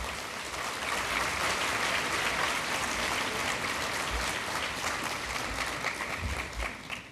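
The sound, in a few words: warm audience applause at a conference keynote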